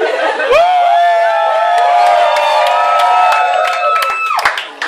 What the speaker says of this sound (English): They're really cheering for me.